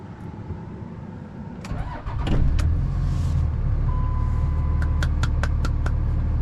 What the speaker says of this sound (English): Just in my truck right now.